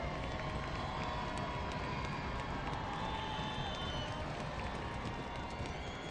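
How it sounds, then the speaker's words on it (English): Stadium crowd at an NWSL women's soccer match between San Diego Wave and Racing Louisville, a dense steady roar of cheering and shouting filling the whole stretch without letting up. "Crowd comes to life here in first half stoppage time."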